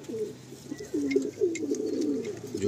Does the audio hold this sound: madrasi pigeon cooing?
yes